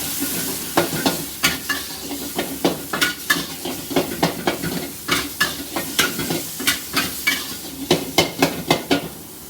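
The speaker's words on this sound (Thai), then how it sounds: "ใส่เนยลงกระทะเอาหมูลงคั่วให้สุกนะคะ" Pork sizzles in butter in a hot pan while a utensil scrapes and stirs in steady, repeated strokes, close and fairly loud.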